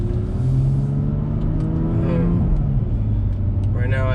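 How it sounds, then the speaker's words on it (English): BMW M2 Competition in Sport Plus mode accelerating on the road, engine rising and falling in pitch with strong rumble, close and loud throughout, with someone talking over it. "Driving the M2 Competition."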